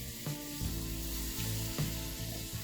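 Half a stick of butter melts in a pan for a Jamaican rum cake glaze, giving a steady close sizzle and crackle with a few soft scraping stirs and no voices.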